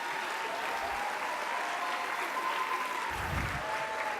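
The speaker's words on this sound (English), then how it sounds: "so let's give her a round of applause" Applause for an assistant band director at a school band spring concert fills the room as a steady, moderately faint wash of clapping from the audience, with no break throughout.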